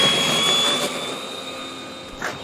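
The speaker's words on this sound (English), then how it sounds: "So the F-14 flying with some of these other planes" A radio-controlled model F-14 Tomcat jet flies past outdoors, its turbine a steady whooshing whine with a high tonal line that slowly fades, then swells briefly near the end, with no talk.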